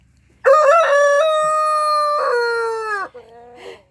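A rooster kept among rescued chickens, guinea fowl and small Australorp chicks crows once, loud and close, a long drawn-out call ending in a short trailing cluck.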